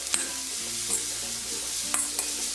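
Vegetables for fried rice stirred and sautéed in a pan, with a steady soft sizzle and several sharp scraping clinks of the spoon against the pan, close and clear, no voices.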